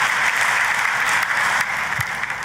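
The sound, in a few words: audience applause in church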